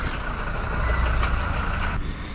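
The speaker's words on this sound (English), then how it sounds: "Massive truck in the way." A massive truck on the road passes close to a bicycle rider, giving a loud, steady broadband engine rumble that fills the whole stretch with no talk over it.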